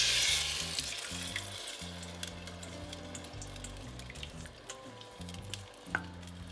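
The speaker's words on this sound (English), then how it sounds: "we're going to add the juice to this pan" Tomato juice going into a hot pan of tomato paste and vinegar, giving a steady close sizzle and bubbling hiss with faint clinks and splashes throughout, no talking.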